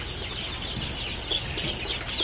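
Farm chickens cluck steadily over a busy, continuous background of bird noise, with no talking.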